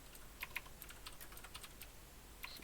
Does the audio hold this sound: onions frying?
no